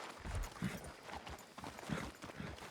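Horse hooves clip-clop in Red Dead Redemption 2, a quiet, steady rhythm of soft thuds in an open outdoor scene with faint ambient noise beneath.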